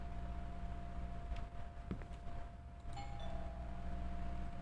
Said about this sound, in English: I should just ring like the doorbell, SpongeBob.